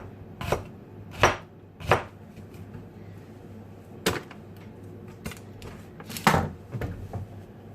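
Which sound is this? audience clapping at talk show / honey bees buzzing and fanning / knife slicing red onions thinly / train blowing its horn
knife slicing red onions thinly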